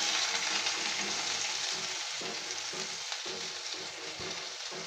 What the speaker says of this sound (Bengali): যে তেলটা বেঁচেছে ওটাতেই দিয়ে দেবো হাফ চামচ জিরে, গোটা জিরে, আর দিয়ে দেবো একটা পেঁয়াজ কুচি করে রাখা